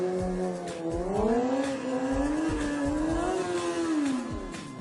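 A motorcycle engine revs hard as the rider gives it gas and pops the clutch for a wheelie, its pitch climbing and wavering in steady loud surges with no talk over it.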